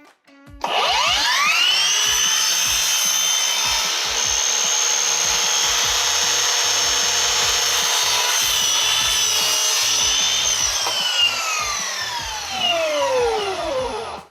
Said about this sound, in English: So I'm gonna take it over to the miter saw, and let's watch it happen.